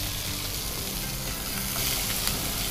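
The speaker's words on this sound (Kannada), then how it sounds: "ಟೊಮೆಟೊ ಫ್ರೈ ಆಗಬೇಕು ಸ್ವಲ್ಪ ಅಲ್ಲ" Tomatoes fry in a hot pan, giving a dense, steady sizzle and crackle with soft bubbling, close and continuous, with no talking.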